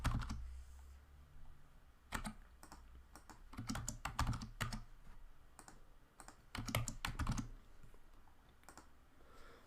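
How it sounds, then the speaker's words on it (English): Usernames typed on a computer keyboard in bursts of quick, close clacking keystrokes separated by short pauses, with no talking. "I'm going to type some usernames that I want to test the URL against."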